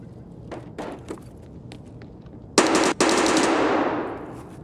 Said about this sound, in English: That groaning sound after the gunshots is another player dying.